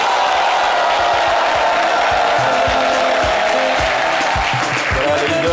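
Dense, continuous applause with crowd cheers greeting a Zouglou band, loud and close throughout, with voices mixed into the clapping.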